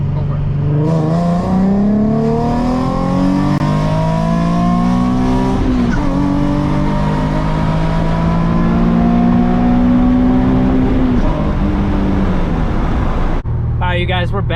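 A retuned Nissan 370Z Nismo engine revs hard and accelerates in long rising pulls, loud and close, with rising and falling tone sweeps through most of the clip before cutting off near the end.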